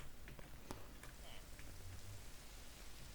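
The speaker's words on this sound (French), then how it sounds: "Oh non, il pleut." Rain falls in a Minecraft-style mining game modded with ice and fire dragons, a steady, fairly faint hiss of drops with a few scattered louder patters.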